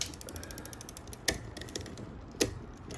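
A Shimano Tourney RD-TZ30 rear derailleur on a bicycle gives two sharp, quiet mechanical clicks as it shifts gears, set against a faint hiss and light ticking.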